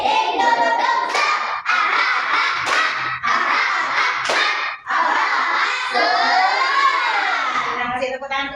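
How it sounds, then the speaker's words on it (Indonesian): A fifth-grade class claps a rhythmic spirit clap, sharp hand claps punctuating loud children's chanting in a patterned beat, close and energetic. "Tepuk semangat."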